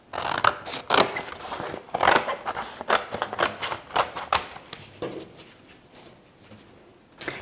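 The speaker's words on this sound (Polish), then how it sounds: "możemy już wyciąć kwadratowe kartki z naszych białych i czarnych kartek przygotowanych" Scissors cut square sheets of white and black paper, giving a string of sharp, close snips and rustles at an uneven pace that thin out toward the end, with no talking.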